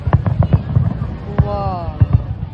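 Fireworks burst over the Burj Al Arab for 2025, a quick series of deep, booming thuds in an irregular rhythm, loud and near, with a brief voice between blasts.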